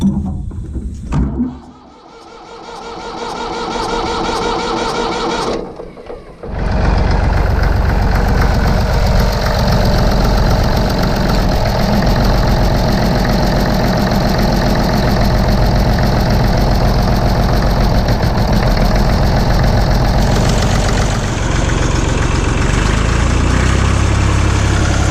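Massey Ferguson 35 diesel tractor, recovering from a fuel blockage, cranks with uneven churning, then catches and settles into a loud, steady knocking idle close by, running on without talk.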